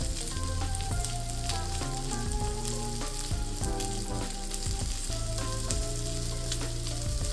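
A ribeye steak sizzling in a frying pan, loud and close, with a continuous hiss under strong musical tones that dominate throughout.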